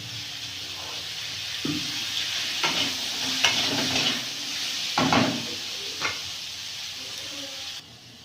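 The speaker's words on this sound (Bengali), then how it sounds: "দিয়ে পেঁপেটা ভালো করে ভাজা ভাজা করে দেবো।" Steady sizzling of papaya frying in a pan with turmeric, with occasional scraping knocks from a spatula as it is stirred.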